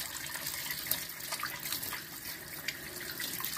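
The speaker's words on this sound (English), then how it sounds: "Yeah, rinse it all off. Get all of the cleaner off of it." Running water from a hose or tap rinses cleaner off a Vanguard 18hp engine cylinder head, a steady close splashing hiss with small spattering bursts and no talking.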